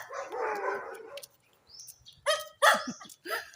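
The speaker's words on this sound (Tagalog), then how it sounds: "Ang dami dyan na aso guys." Several dogs barking outdoors in a rural Philippine neighborhood, a few sharp barks in quick succession after a stretch of bird chirping, moderately near, with a voice speaking briefly.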